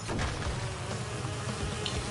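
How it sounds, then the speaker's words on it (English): Bees buzz in Crash Bandicoot 2: Cortex Strikes Back from the N. Sane Trilogy on PS4, a dense steady drone that holds throughout at moderate loudness with no talk. "Wait until those bees leave."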